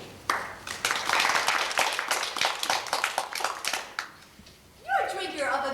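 Applause from a theatre audience at the close of a staging of Plautus's comedy Casina, a dense burst of many hands clapping for several seconds before it fades and a voice comes in.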